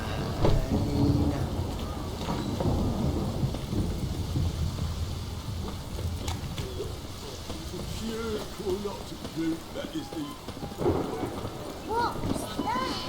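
Steady rain patters throughout with a low rumble of thunder in The Witcher 3: Wild Hunt, while game character voices talk over it at times.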